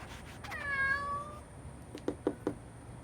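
An orange cat gives a single clear, drawn-out meow nearby, followed by a few soft knocks or taps, quiet overall with no talking.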